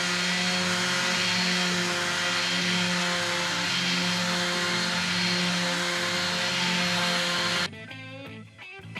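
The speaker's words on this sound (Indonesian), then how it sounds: "Ini amplas kayu, nanti kalau udah halus kemudian kita siap untuk finishing." A power sander works the wooden body of a locally made Indonesian guitar, giving off a steady, droning whine with a buzzing hum that cuts off abruptly near the end, leaving only brief faint noises.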